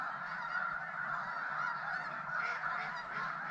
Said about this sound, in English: I'm within 40 yards of snow geese right now.